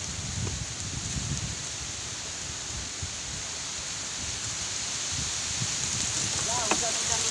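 Rain and gusting wind outdoors, heard during prawn fishing, make a faint, steady hiss of rustling noise, with a few soft knocks near the microphone.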